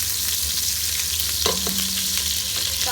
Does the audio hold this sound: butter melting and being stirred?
yes